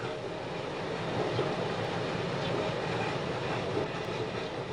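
A train runs at the National Railroad Museum, a steady loud rumble of rolling wheels and rattling cars at close range, continuous throughout with no talking.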